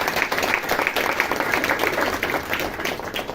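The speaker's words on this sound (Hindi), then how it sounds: "तो एक बार फिर से दीदी जी के लिए ताली।" An audience claps together for a woman teacher at a spiritual class, a steady, dense patter of many hands filling the room, with a voice faintly underneath.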